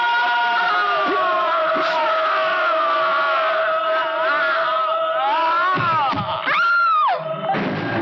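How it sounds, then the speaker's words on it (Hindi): A woman's high, sustained scream from a Hindi film scene rises and wavers over a noisy backdrop, ending in a sharp upward cry before breaking off. "मरने वाले की चीख सुनी?"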